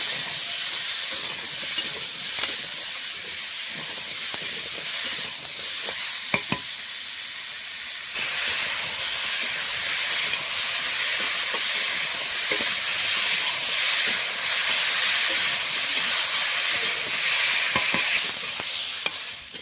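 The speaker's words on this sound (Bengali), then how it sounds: "ডাঁটাটা ভালো করে ভেজে নিচ্ছি।" Amaranth stalks with salt and turmeric fry in a pan, a steady hissing sizzle broken by stirring scrapes and a few sharp clacks, growing louder midway and continuing without talk.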